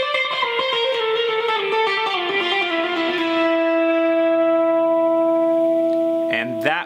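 A distorted electric guitar plays a solo lick, with hammer-ons, pull-offs and slides flowing into long sustained bent notes, loud and up close, ending in a quick sharp flourish.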